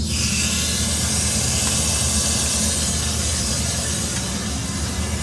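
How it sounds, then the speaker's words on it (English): A steady, loud broadband roar with hissing rush, like a furnace burning close by, constant throughout with no pauses. "You can hear the furnace behind me is started up too."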